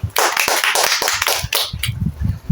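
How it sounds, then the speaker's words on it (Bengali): A classroom group claps together for a student, a dense run of quick hand claps that swells and thins across the span, fairly loud and close with no talking over it. "তো ওর জন্য একটা আমরা হাততালি দিই।"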